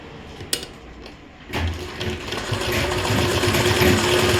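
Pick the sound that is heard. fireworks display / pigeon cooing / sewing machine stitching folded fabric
sewing machine stitching folded fabric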